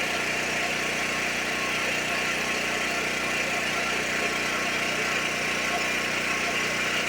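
A faulty Duromax generator runs steadily nearby, a continuous engine drone with a low hum and broad mechanical hiss that holds at an even, loud level throughout, with no talking.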